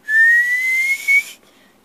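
A person whistles in imitation of a tea kettle: one sustained, shrill, slowly rising tone lasting just over a second, then it cuts off, with no other sound around it.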